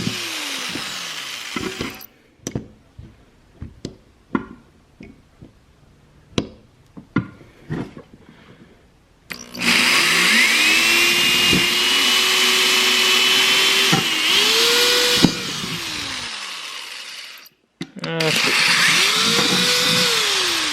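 A power tool widens bolt holes on a car for a DIY chassis-mounted front splitter install: scattered knocks and clatter first, then a loud, close whining drill run that ramps up and down in several long bursts.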